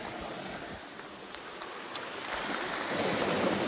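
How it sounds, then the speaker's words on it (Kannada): Rushing water from a waterfall on the Kudremukh trek during heavy monsoon rain, a steady broadband roar with faint splashes, swelling slightly louder toward the end. "ಇದು 3ನೇ ವಾಟರ್ ಫಾಲ್ಸ್."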